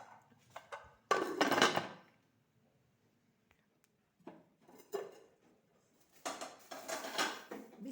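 Black chickpea qorma is served from a pot into a dish with clattering spoon-on-metal scrapes and knocks in bursts, separated by quiet pauses, then a longer run of scraping at the close.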